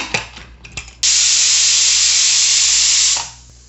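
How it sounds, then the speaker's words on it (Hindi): A pressure cooker cooking cabbage coconut curry lets out a loud, steady, high-pitched whistling hiss that holds for about two seconds before tapering off, preceded by a few clinks. "1 सीटी आ गई है"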